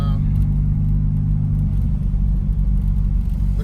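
A turbocharged car engine pulls hard under acceleration, a loud, steady low rumble close by that shifts in pitch partway through, with no talking over it.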